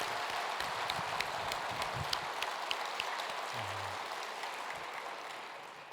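A church congregation at a city-wide union worship service applauds, a soft, distant wash of clapping that slowly fades toward the end.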